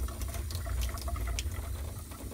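Water running from a tap while a paint palette is rinsed at a sink, a steady low splashing rush with small spattering bursts, fairly quiet and close with no talk.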